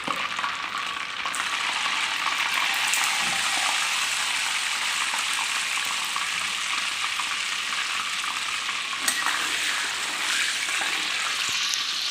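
Eel fries in a pan, giving a steady, bright sizzling hiss with bubbling crackle that holds at a constant, fairly loud level with only slight swells, and no voices.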